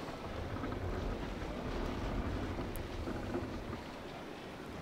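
Wooden sailing ship in the Naval Action video game, with a steady dense wash of wind, water and hull noise, creaking and groaning continuously at close range with no speech.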